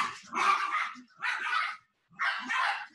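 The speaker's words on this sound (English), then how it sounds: "Sorry, my dogs are fighting." Pet dogs fighting indoors, with three loud bursts of snarling and barking separated by short pauses, close by.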